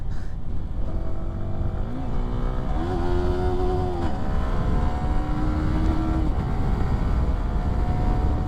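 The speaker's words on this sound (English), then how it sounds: "Just trying to do a pull, and the quick shifter is brilliant." A Yamaha R15M motorcycle accelerates hard with quickshifter upshifts. The loud, steady engine note climbs in pitch and drops sharply at each quick gear change, with continuous wind roar and no voices.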